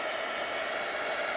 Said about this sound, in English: let's hit it with the dryer and see how dry we can get it.